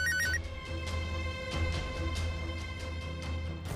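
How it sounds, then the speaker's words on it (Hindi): A phone ringtone ringing in a repeating electronic pattern, steady and fairly clear over a low background hum, with no talk. "किसी नंबर से फोन आ रहा है।"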